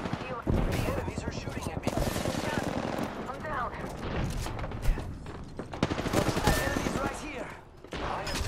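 Enemy gunfire in the battle royale shooter Apex Legends, dense rapid volleys of automatic shots and sharp cracks rattling continuously at close range, mixed with game effects and brief voice callouts.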